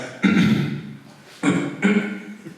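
A voice mimics an alarm clock with three loud, buzzy vocal bursts, a long one followed by two shorter ones, close to the listener.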